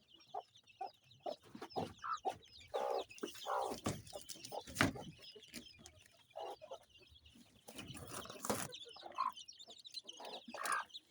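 Kienyeji hens with two-week-old chicks on a poultry farm produce a close mix of low clucks and soft, high peeping that continues throughout, with scattered scuffling and faint chirps behind.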